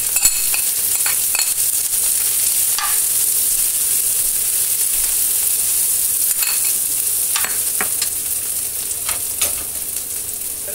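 Chopped onions and green chillies sizzle steadily in hot oil for a Kerala thoran, a constant loud frying hiss with occasional scrapes and clinks of stirring throughout.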